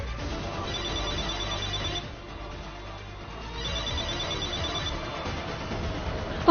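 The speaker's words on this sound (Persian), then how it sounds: "آقای جایان داره موبایل پانکتی رو میگیره" A mobile phone ringtone sounds for an incoming call, a steady electronic ring that plays continuously and fairly loud, dipping briefly midway before resuming.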